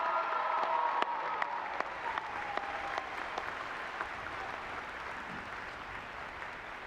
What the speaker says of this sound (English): please join me in thanking them for all of their support and give them a well-deserved round of applause